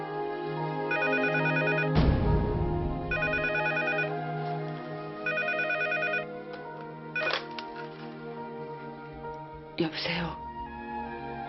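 An old-style telephone bell rings in three repeated trilling bursts, each about a second long with pauses between them, heard close over background music and sudden dramatic hits.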